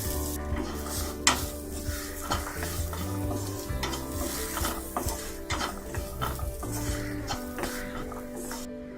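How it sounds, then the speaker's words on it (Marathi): Chilli powder, garam masala and peanuts sautéing in a pan over fried onion and turmeric: a steady close sizzle with repeated stirring scrapes and occasional clinks of a spoon against the pan, no talk. "मिरची पावडर, गरम मसाला थोडा परतून घेऊया, शेंगदाणे घालून घेऊया,"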